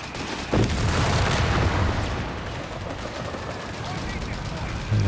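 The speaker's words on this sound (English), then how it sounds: "The IG barrage downtown." Artillery barrage from an infantry gun in the Company of Heroes 3 real-time strategy game, a dense rolling mass of booming shell impacts and crackling gunfire that stays loud and continuous, with a sharp heavy hit near the end.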